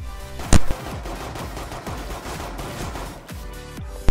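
Rapid automatic gunfire in Rainbow Six Siege, aimed at a wall, a fast sustained stream of shots with one loud sharp blast near the start, close and continuous.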